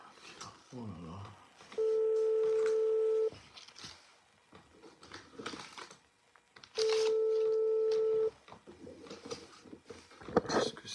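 Two long, steady telephone tones ring out clearly, each lasting about a second and a half, separated by a pause, with people talking in between.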